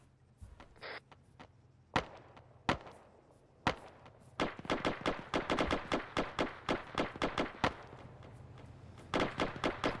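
Rapid gunfire in Arma 3, starting as a few sharp isolated shots, then breaking into fast, irregular bursts of cracking rounds at moderate distance.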